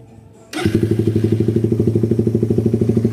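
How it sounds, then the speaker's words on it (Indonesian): A motorcycle engine idles steadily with an even, rapid pulsing thrum after a quiet start, close and loud, with no voices. "Untuk bunyi mesin sudah sangat halus ya"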